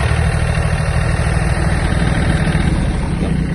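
A Yanmar F-255 Japanese mini tractor engine running in first low gear at minimum speed, giving a loud, steady low diesel rumble with constant vibration, close by.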